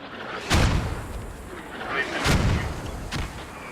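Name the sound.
mortar fire in a video game (Squad, Kohat map)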